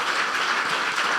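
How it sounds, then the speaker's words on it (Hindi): Church congregation applause in a Dubai apostolic church: a short, steady burst of many hands clapping at moderate volume, with no voices over it. "इसी कुदरत के लिए जोरदार तालियां बजा दें"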